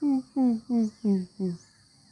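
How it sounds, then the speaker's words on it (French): A cuckoo-like bird in the distance repeats a low hooting call five times in a steady rhythm, each note sliding slightly downward, fairly clear against a quiet background. "on entend un de ces coucous au loin là"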